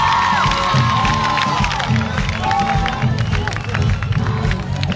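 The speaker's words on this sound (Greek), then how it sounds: "Δώστε μου ένα δυνατό χειροκρότημα." A large concert crowd on the island of Paros applauds and cheers steadily for a singer, a dense wash of clapping, whistles and shouts with voices mixed throughout.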